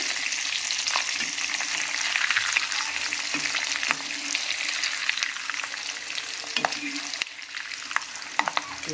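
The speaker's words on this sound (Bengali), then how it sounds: "দেখো এতে লঙ্কাগুলো দিয়ে ভেজে নিচ্ছি ভালো করে।" Green and red chillies fry in hot oil for a spicy papaya chanachur snack mix, giving a dense, continuous close sizzle with scattered pops and occasional stirring scrapes throughout.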